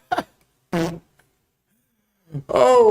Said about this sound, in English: all I have to do is play a fart on the soundboard and Wade is dying